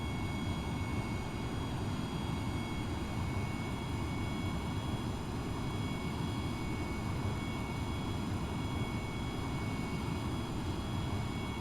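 An F/A-18 jet engine in the flight sim IL-2 1946 roars steadily and loudly throughout, a dense unbroken rumble with a high whine on top and no voices.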